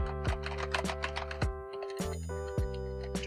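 Optical-switch keys on an A4Tech B418 Bloody keyboard clack repeatedly in an uneven typing rhythm, close and crisp, with a short pause midway before the tapping resumes.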